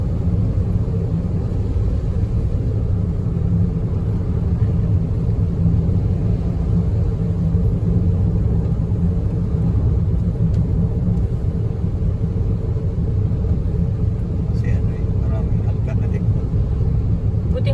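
Steady low rumble of road traffic on a local road, heard from inside a moving vehicle, with engine drone constant throughout and people talking over it.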